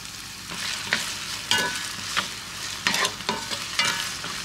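Orange peel strips sautéing in a pan with a spoonful of sugar and a pinch of saffron, heard as soft sizzling with several scraping, stirring strokes at irregular intervals, close and moderately quiet, with no talk.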